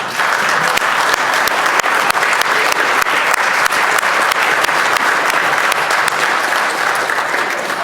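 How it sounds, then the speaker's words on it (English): Members of the Virginia House of Delegates give a warm round of applause for visiting Manchester students and exchange students: dense, steady clapping from a large chamber crowd, loud and sustained throughout with no talk over it. "give the Manchester students, and particularly our exchange students, a warm round of applause"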